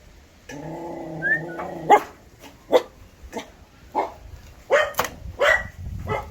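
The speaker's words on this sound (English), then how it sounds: "He's a guard dog. Don't know his name, but he likes to bark." A guard dog barks in a series of short, sharp barks close by, after a brief whine at the start, with pauses between each bark.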